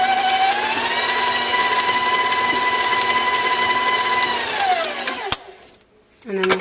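A stand mixer runs at high speed mixing fondant, a loud, steady motor whine that drops in pitch as it winds down, then cuts off near the end.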